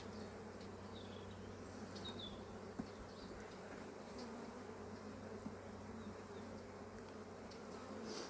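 A honeybee colony buzzes at the hive, a dense steady hum that carries through the whole stretch, faint and even, with no talk.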